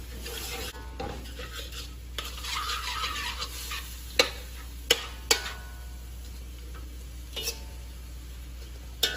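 Sautéed vegetables, snow peas and sprouts, get stirred with rice in a pot, giving soft scraping and sizzling with several sharp utensil knocks against the pot.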